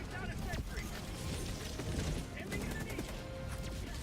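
A modded recoilless rifle fires in the Vintage Story game as a dense burst of heavy booming blasts and rumble, loud throughout, with a voice talking over it.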